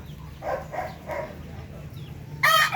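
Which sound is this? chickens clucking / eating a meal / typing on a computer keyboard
chickens clucking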